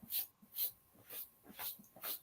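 A shedding dog being held gives soft, repeated whimpers in an even rhythm, about five faint breathy cries close by, with no talk.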